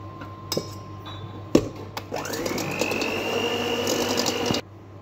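An electric hand mixer whirs in a bowl of sugar, eggs, vanilla essence and butter for Arabic-style date biscuits, starting after a few clinks and knocks and running steadily and loudly for a couple of seconds before cutting off.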